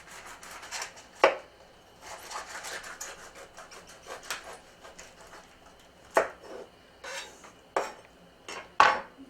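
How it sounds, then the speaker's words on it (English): A kitchen knife cuts the thorny top off an artichoke, giving several sharp, separate cuts and thuds against a board. Softer scraping and rubbing sounds fall between the cuts, with no talking. "So I always chop the top off."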